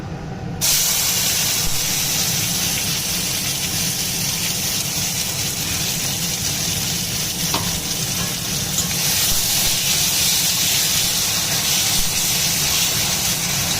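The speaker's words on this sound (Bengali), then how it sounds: "এরপর আমি কড়াইয়ে দিয়ে দেবো বেটে রাখা মশলাটা।" Ground spice paste hits hot oil in a wok for an egg curry, bursting into a loud, sustained hissing sizzle that starts abruptly and carries on unbroken.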